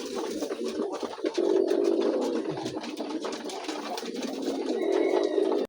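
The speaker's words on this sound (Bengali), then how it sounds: "খুবই কোয়ালিটিফুল লাল টকটকে কবুতর" Red-coloured Rajgolla pigeons coo continuously nearby, low throaty coos repeating in rolling phrases over faint background noise.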